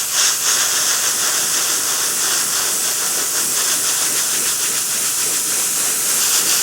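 A hobby airbrush sprays paint onto a Cairn Wraith miniature in a steady, close hiss of air and atomized paint that runs unbroken throughout, with no talking.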